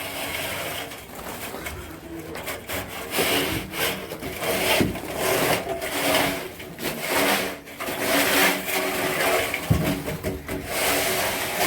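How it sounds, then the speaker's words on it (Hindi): Mortar of cement and sand is worked onto a wall by a mason, giving repeated scraping and rubbing strokes in an uneven rhythm, close and fairly loud, with faint background birds. "बैक साइड का अभी प्लास्टर चालू है, इधर का ये प्लास्टर अभी मिस्त्री प्लास्टर चालू है तो आपको देखने को मिलेगा प्लास्टर का काम और सीमेंट रेती का काम चालू है।"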